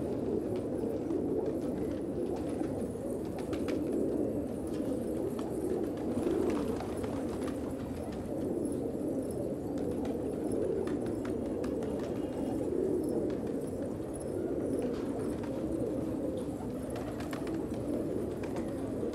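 Gola pigeons, a fancy fighting breed, coo steadily in a loft, a dense low murmur of overlapping coos that runs without pause and stays fairly quiet throughout.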